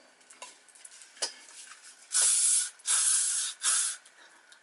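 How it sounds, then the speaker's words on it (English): Hairspray is sprayed onto a braided half updo in three loud close hissing spritzes after a few soft handling rustles. "One quick more spritz of hairspray"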